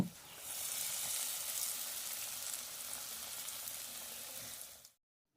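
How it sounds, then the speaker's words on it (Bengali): Eggplant fritters (beguni) deep-frying in oil give a close, continuous bubbling sizzle that holds steady for several seconds, then cuts off abruptly. "এরপর আমরা একইভাবে বাকি বেগুনিগুলো খুব সুন্দরভাবে ভেজে নেব।"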